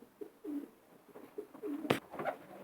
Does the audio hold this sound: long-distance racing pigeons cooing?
yes